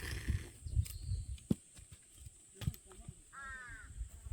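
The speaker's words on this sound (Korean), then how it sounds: "까마귀도 노래하고 나지막한 오두막에 굴빛집에서" Crow cawing near a low bark-roofed hut in the countryside, a few harsh caws standing out over sharp thuds of firewood being split, with people talking around it.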